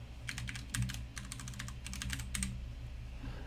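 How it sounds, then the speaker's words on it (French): Quick bursts of typing on a computer keyboard, close and clear, come in two clusters of rapid key clicks with a short pause between them, over a low steady hum. "si je commence à taper des choses"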